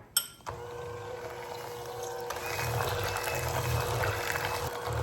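An electric mixer churns cake batter of granulated sugar and milk for a cornstarch cake, starting after a brief knock and running as a steady whirring drone with a wet, sloshing texture throughout.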